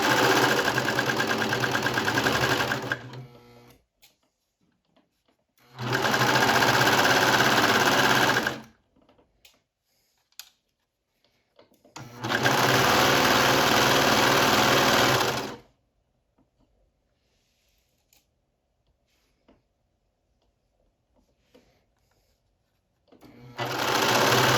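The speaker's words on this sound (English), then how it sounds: "And then begin serging." Serger overlock machine stitching swimwear lining fabric, running in three loud sustained bursts of a few seconds each, separated by quiet pauses.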